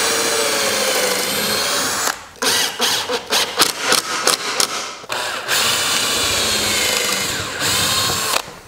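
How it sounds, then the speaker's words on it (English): A power drill pre-drills pine wood for bench assembly, a loud whirring run followed by a series of short trigger bursts and stops, then another long steady drilling run. "make sure you pre-drill so you don't split the wood"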